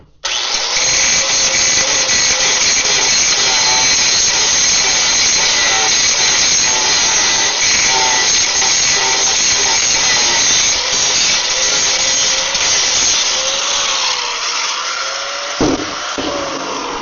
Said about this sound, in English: I'm gonna have to grind underneath there a little bit better